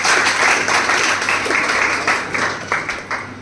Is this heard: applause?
yes